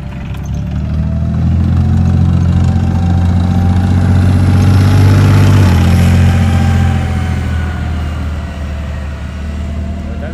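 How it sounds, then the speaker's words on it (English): A Leopard 2 tank at a Tankfest show runs its engine continuously, a loud, steady low rumble with a faint whine above it that swells slightly in the middle and then settles, with no talk over it. "This engine sounds really nice."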